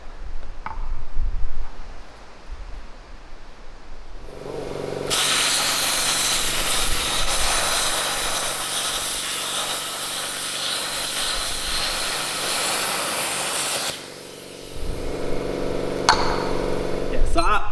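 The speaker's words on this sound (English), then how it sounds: "we're gonna kind of rough it out with the plasma" Plasma cutter roughing out a hole in metal during a truck repair, a loud steady hiss lasting about nine seconds, with shop noise before and after.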